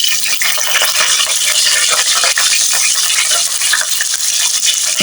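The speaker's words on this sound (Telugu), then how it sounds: "ఆయిల్ హీట్ ఎక్కాక ఆవాలు, జీలకర్ర వేద్దాం" Mustard seeds and cumin spluttering in hot oil for a dried prawn fry, a loud, close, continuous crackling sizzle with bright hissing throughout.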